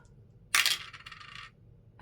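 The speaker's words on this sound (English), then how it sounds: "I'm just going to roll 2 dice this week." Two dice rolled onto a hard surface: a sharp rattling clatter that bursts in, bounces and skitters for about a second, then a new tap starts at the end. Close and fairly loud, with no talking.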